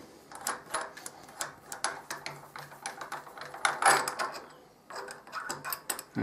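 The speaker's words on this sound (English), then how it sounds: "this chuck was hand tightened, and I can hand loosen it" A lathe chuck is loosened by hand during a footpeg repair, producing quiet, close, irregular metallic clicks and ratcheting taps with short pauses between them.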